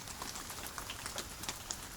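Soft rain patters steadily on a surface, a dense even hiss with scattered faint drips, gentle and close, with no voices over it.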